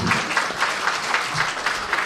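An audience claps for an actress named Lina at a children's theatre promotion, a dense, steady burst of applause with rhythmic pulses of hands, fairly close and lively, no talking over it.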